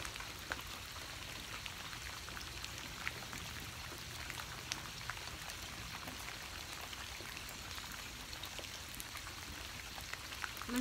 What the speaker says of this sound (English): Listening to the sound of the rain, visualizing this cleansing water pouring through your body.